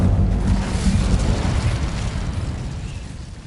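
Fire spell cast in Hogwarts Legacy, a loud, close burst of rushing flame and roaring noise that fades over a few seconds, with no voices.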